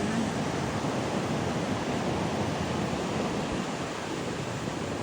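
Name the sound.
ocean waves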